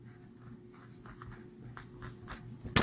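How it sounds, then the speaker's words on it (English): Pencil eraser rubbed on paper during stamped card crafting, a soft close scratchy rubbing in quick repeated strokes, ending with a brief sharper scrape. "You didn't know you can erase."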